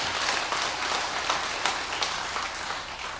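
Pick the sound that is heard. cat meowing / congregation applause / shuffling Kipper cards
congregation applause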